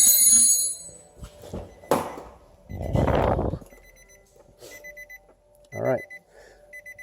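A 2008 Nissan Xterra sounds a warning beeper after its steering column is reassembled: a run of short electronic beeps repeats between a man's brief speech and some handling thumps.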